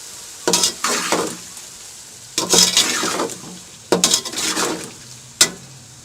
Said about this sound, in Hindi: अब इसमें चने डाल दें, चनों को अच्छी तरह मिक्स कर लें।